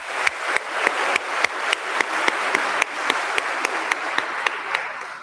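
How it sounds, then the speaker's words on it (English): A crowd at a university new-student orientation opening ceremony applauds in a steady wash of clapping, with sharp, evenly spaced louder claps punching through the whole time. "So you deserve a round of applause."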